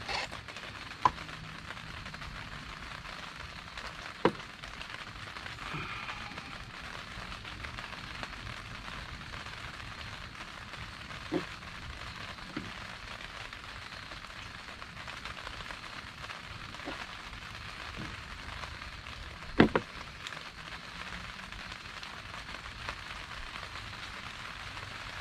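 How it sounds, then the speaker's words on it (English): Steady rain falling outdoors, a continuous even hiss with a few scattered louder drips and taps, no talking. "Goddamn rain, boy."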